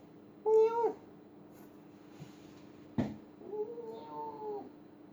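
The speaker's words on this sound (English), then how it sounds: "That's my cat." A house cat gives two drawn-out meows, one short and close near the start and a longer, softer one later, with a small knock between them in an otherwise quiet room.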